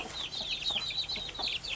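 Small flock of backyard chickens with young chicks, a steady run of soft, high chirping clucks repeating close by with no talk.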